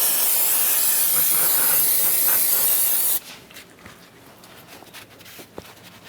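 Parts cleaner sprays in a loud, steady continuous hiss onto the engine oil cooler area of a 2015-2020 Cadillac Escalade, lasting about three seconds before cutting off to quieter handling noises.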